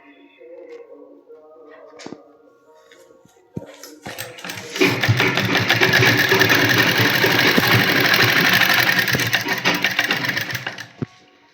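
An electric sewing machine stitching lace onto fabric starts after a few seconds of quiet handling and taps, then runs as a loud, fast, continuous mechanical whir for about six seconds before stopping.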